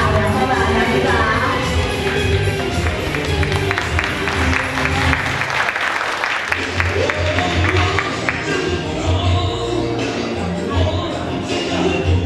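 An audience claps at a children's summer camp awards ceremony, a dense crackle of hands that fades for a moment in the middle and then returns, with an amplified voice speaking over it.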